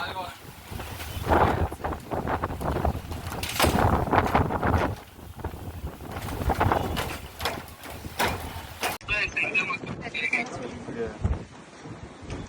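Strong, unusual wind buffets the microphone outdoors during a trip near Bangalore, gusting in heavy rumbling bursts while several people talk and exclaim over it.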